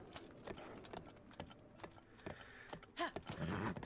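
Horse hooves clop in a steady, light rhythm while riding in Breath of the Wild, the regular footfalls soft and close with some faint jingling and game effects mixed in.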